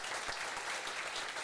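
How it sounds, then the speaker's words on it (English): Audience at a city council meeting giving a round of applause, a dense, steady patter of many hands clapping at once, moderately distant and fairly soft, with no talking over it. "Give them a round of applause for all their hard work."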